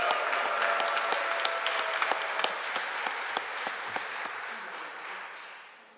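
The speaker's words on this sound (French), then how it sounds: "applaudissements pour le Seigneur." A church congregation at Palm Sunday Mass breaks into applause, a full wash of clapping with a few sharp individual claps that gradually dies away.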